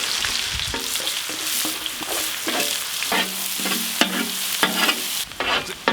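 Onions and cumin sizzle in butter in a pan for Mumbai street-style pav bhaji, with repeated scraping stirs of a spatula in an uneven rhythm over a steady frying crackle, close and fairly loud.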